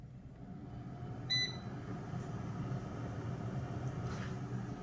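A bread machine is started on its bread setting, giving a single short electronic beep over a steady low hum, close and faint with no talk.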